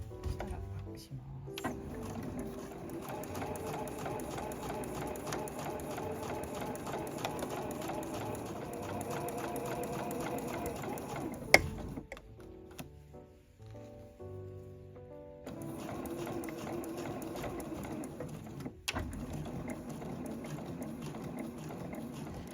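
A household sewing machine stitches canvas for a zippered two-way tote bag, running a short forward seam and then backstitching. The mechanical hum runs steadily with a brief pause partway through, and a voice talks over it.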